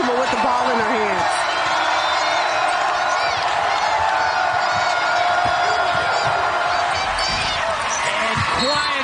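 A crowd at a Texas vs Kansas State women's basketball game in the Big 12 Tournament semifinals roars loudly and steadily throughout, with an announcer talking over the noise and occasional squeaks and whoops.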